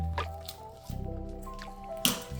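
Soaked herbs for an anxiety tincture are squeezed by hand, giving wet squishing and dripping liquid sounds in short bursts, close and fairly clear, with no speech.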